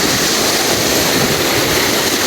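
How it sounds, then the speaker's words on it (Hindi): Fast water rushes loudly and steadily at a two-river fishing spot, a dense, unbroken roar with no voices heard. "पानी आ रहा है बहुत तेज़ी से"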